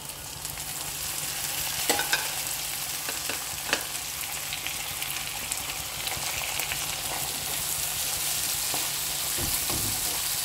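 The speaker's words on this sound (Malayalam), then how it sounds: "അതൊന്ന് നന്നായി വഴറ്റിയെടുക്കാം" Onions sauté in a pan for Kerala scrambled eggs, a steady low sizzle under occasional spatula scrapes and knocks against the pan, close and moderately quiet.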